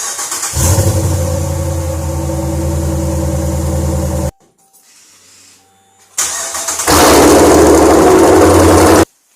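A 2017 Dodge Ram fitted with a Corsa exhaust cranks and fires into a deep, loud idle, falls silent briefly, then roars back with a hard, sustained rev before cutting off abruptly.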